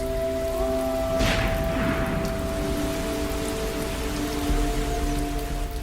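Steady, dense rain pours down in the Amazon rainforest, a continuous close hiss of drops on foliage with no pauses, alone and unbroken throughout.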